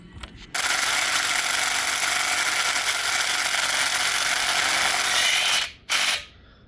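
A cordless impact driver on a small 1.3 amp-hour battery drives Titan screw anchors during a back porch build, one loud, close, sustained buzzing run of about five seconds, then a sudden stop and a brief final burst.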